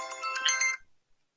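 A phone ringtone plays a short bright electronic melody close by, then cuts off abruptly, followed by silence.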